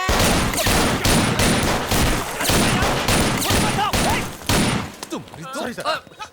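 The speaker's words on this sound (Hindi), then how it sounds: "गिनती किए बिना ढिशक्याओ गोली चलाएंगे सर" Heavy gunfire fills an action scene from the Telugu film Sardaar Gabbar Singh, a loud dense volley of shots running nearly nonstop, then thinning into scattered bursts and impacts near the end, with voices and music mixed in.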